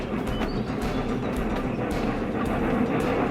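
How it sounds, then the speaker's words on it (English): Snowdon mountain rack railway train pushing passenger wagons up a steep slope, a steady loud rumble with rhythmic mechanical clicks and clanks running throughout, close by and without voices. "mountain railways like this one at Snowdon would later use the system to push passenger wagons"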